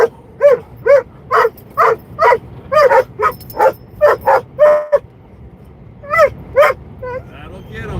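Several puppies bark and whimper up close in a burst of about a dozen sharp, high yips. After a brief pause come a few more yips and a soft trailing whine.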